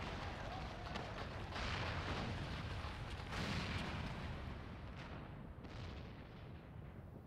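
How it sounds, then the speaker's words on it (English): In Final Fantasy XIV, cannon fire at Castrum Abania booms out along with a main tower collapsing, heavy rumbling blasts and a long crumbling roar that swell and fade over several seconds. "It must have been the cannon at Castrum Albania."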